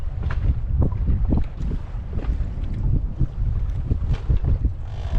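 Strong wind buffets the microphone in gusty, rumbling bursts on an inflatable boat at sea, with water lapping faintly beneath, no voices.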